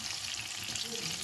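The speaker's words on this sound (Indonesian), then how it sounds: "Untuk lauknya ini saya mau goreng tempe aja sama nanti goreng ayam yang cepet" Tempe frying in a pan of hot oil gives a steady, dense sizzle throughout, close and fairly quiet.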